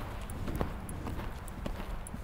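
A riding horse walks with a rider aboard in a training arena, its hooves giving a soft, steady clip-clop at an even pace, close by and fairly quiet, with no voices.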